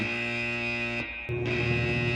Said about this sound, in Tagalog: Captain, an alarm has been triggered on the steering console.